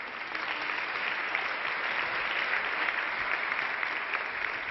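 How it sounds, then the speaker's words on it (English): An audience at a UNCTAD award ceremony breaks into steady, continuous applause, many hands clapping at an even level throughout, somewhat distant in a large hall. "You can applaud, and in time."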